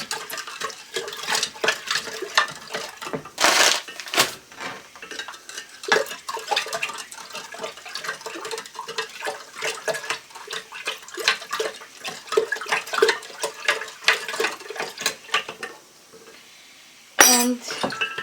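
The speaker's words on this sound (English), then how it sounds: "I'm going to go ahead and stir the white granulated sugar so that this sugar will melt also" Spoon stirring white granulated sugar in a glass jar for a ginger bug, a steady run of clinking and scraping against glass, close and moderately loud, with a short pause near the end and no talking.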